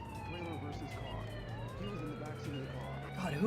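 An ambulance siren wails in the Yakuza video game, a faint, cycling electronic siren repeating over a steady engine drone, with mixed background noise and a voice underneath.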